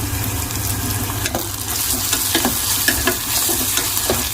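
Chopped onions fry with salt and turmeric in hot oil with cumin seeds, giving a loud, steady sizzle. Spoon scrapes and stirring knocks cut through the hiss in an irregular rhythm.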